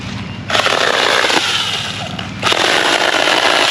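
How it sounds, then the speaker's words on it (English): A cordless handsaw cutting through cut cherry and mulberry wood outdoors, a loud, close, steady buzzing rasp that starts abruptly, dips briefly, then surges again for the rest of the clip. "my little handsaw."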